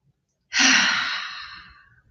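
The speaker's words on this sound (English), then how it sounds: "Let's take another breath." One deep breath during an EFT tapping session: a brief intake, then a long, soft, breathy exhale that fades gradually, close and alone in a quiet room.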